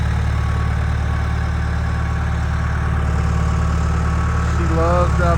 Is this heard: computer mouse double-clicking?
no